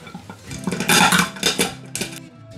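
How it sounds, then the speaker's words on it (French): Hazelnuts being crushed under the back of a saucepan on a kitchen counter: a series of close, irregular cracking and scraping knocks, louder bursts in the middle, no voices. "je vais concasser mes noisettes. Tout simplement avec le dos d'une casserole."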